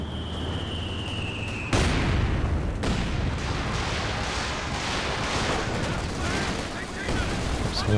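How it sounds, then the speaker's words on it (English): A heavy mortar strike in Company of Heroes 2 lands in a battle: a sharp blast, then a second impact, over dense crackling gunfire and rumbling explosions in a busy game mix. "The heavy mortar strike coming down somewhere."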